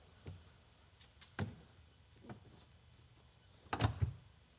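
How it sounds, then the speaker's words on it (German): The door of an Ineos Grenadier pushed shut by hand: a few soft clicks and knocks in a quiet cabin, then a louder double thump of the latch catching near the end. "jetzt machen wir einmal den Test und du versuchst mal die Tür mit Zudrücken zu schließen."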